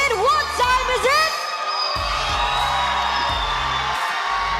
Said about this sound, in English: Grabe yung lakas ng cheer dito.